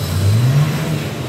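A Mitsubishi 4D56 diesel engine with an oil-soaked throttle body runs at raised revs, a loud, steady low drone that swells slightly and holds throughout the short stretch, with no voices over it.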